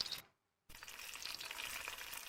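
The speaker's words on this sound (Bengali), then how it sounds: "বারবার উল্টে পাল্টে ভাজতে হবে তাহলে কিন্তু খুব সুন্দরভাবে আলুটা ভাজা হবে" Raw potato pieces fry in hot oil and are turned over and over in the pan, giving a steady crackling sizzle with a brief silent break near the start and no talk.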